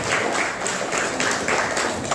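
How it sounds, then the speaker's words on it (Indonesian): A live audience at a drumming event claps for a questioner, a thick wash of applause at close range that holds steady through the moment without speech. "Tepuk tangan buat masnya."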